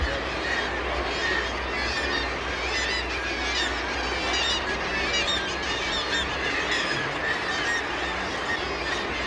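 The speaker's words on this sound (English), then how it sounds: "Brünnig guillemots, kittiwakes and glaucus gulls swoop around close to their nests on the cliff face." Seabirds crowd the nesting ledges of an Arctic cliff face, a dense chorus of overlapping cries and shrill calls from many birds, continuous and loud, with steady wind-like background noise.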